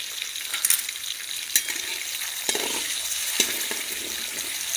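Eggs fry in a pan with turmeric, chili powder and salt, giving a constant soft sizzle broken by a few sharp clinks and scrapes of stirring, close up, with no talking.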